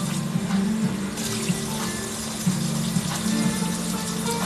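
Tap water running steadily into a kitchen sink while raw pork is rinsed, a close continuous splashing rush with small surges in flow.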